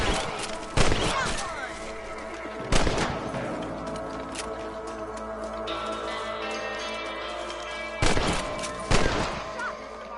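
Rifle shots in Red Dead Redemption fire at rabbits, with four sharp loud cracks spaced irregularly over a sustained game soundscape of ambient tones and effects.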